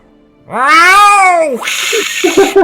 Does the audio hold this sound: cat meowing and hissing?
yes